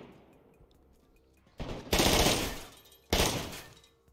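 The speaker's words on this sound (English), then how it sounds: "Matt, what the hell was he shooting that sounded like that" SVD sniper rifle gunfire in the DayZ video game: two loud, sharp reports about a second apart, each ringing off into a decaying tail, with a further close burst just before them.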